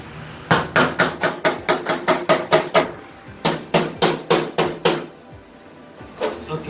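A hammer strikes something in a fast, even series of sharp blows, a pause, then another quick run of hits and a few scattered taps, loud and close with no talk.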